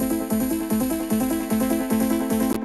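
A bright synth pluck with delay plays a quick repeating pattern, each note echoed closely behind, dense and loud with no voices, cutting off at the end.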